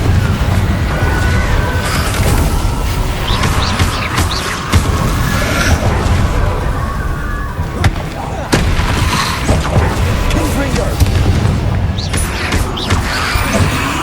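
Confringo fiery blasting spells explode in Hogwarts Legacy combat, loud booms and crashing bursts layered over a dense, busy battle din, with a voice speaking throughout.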